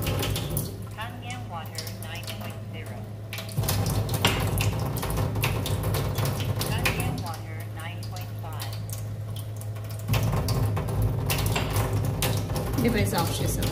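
A Kangen water machine runs steadily while dispensing alkaline 8.5 pH water, a continuous close-up stream with a constant low hum and a second, louder stretch partway through.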